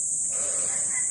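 Chickens cluck on a farm plot being prepared, a steady close flock murmur running the whole time with no voices over it.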